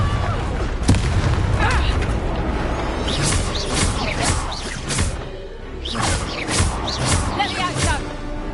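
Confringo blasting spells explode in Hogwarts Legacy, a series of loud booming bursts with whooshing tails that cluster in two volleys over a constant busy game background.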